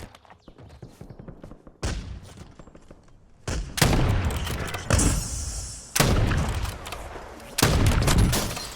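Bursts of rapid gunfire in the battle royale shooter Warzone: several loud volleys arrive in quick succession, separated by quieter stretches of game ambience.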